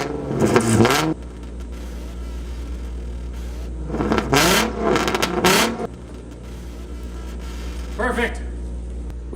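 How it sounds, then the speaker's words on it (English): A Nissan 350Z with a straight-pipe exhaust revs in three loud, harsh bursts, rising and falling sharply, separated by a low idle rumble. "we are going to test it with the worst sounding straight pipe vehicle on the planet,"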